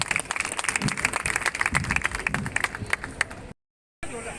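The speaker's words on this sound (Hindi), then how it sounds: "उनके लिए भी एक बार जोरदार ताली बजाएं।" A crowd at a Parshuram Jayanti celebration claps enthusiastically, dense applause of many hands filling the space for several seconds before a brief cut to silence.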